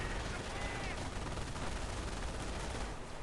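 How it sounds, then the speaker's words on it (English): Machine gun fire in a video game battle: dense, continuous bursts of loud gunfire with mixed battle noise, rolling on without a break. "MG suppressing on the other side."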